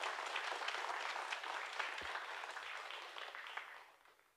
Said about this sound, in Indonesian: Tepuk tangan dong untuk Joey Alexander.